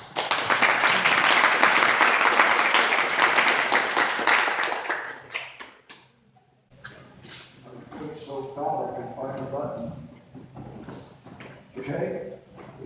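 Audience at a Utah Valley Oasis talk applauding a guest speaker, a steady burst of clapping for about five seconds that fades out, followed by someone speaking.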